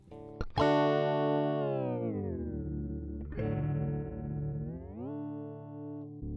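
Electric guitar run through a pitch pedal effect in Guitar Rig software, sustained distorted notes that bend and slide in pitch, a sharp attack at the start followed by a second swell midway, heard alone with no talk.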